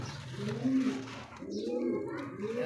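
Pigeons cooing near a seller's pigeon pairs, a low throaty coo repeating in soft rolling phrases over a murmur of room noise, with faint voices in the background.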